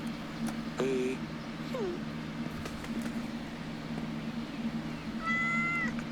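A cat meows several times in the video game Yes, Your Grace, a couple of short calls early and a longer one near the end, heard over a steady low background hum.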